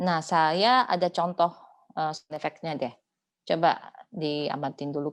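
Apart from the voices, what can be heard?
No everyday noises stand out.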